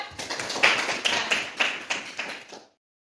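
A classroom group claps for a student in steady, rhythmic unison, sharp beats landing about three times a second at an even, close volume before stopping abruptly.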